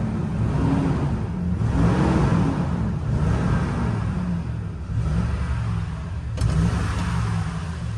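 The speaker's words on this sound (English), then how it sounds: "I have to rev it up a little bit and stuff like that." A Toyota Tundra engine idling and revving in steady surges, loud and close, with a sharper rise in pitch near the end and no talking.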